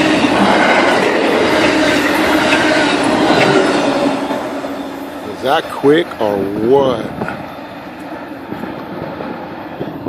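Train rushing past on tracks along the California coast, a loud, steady roar with rattling wheels that swells close up then eases, while someone speaks briefly over it.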